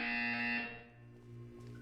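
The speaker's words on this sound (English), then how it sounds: "You will hear a buzzer." A loud electronic buzzer from the video game Portal 2 sounds once, a harsh steady tone lasting about half a second before cutting off to a quieter hum.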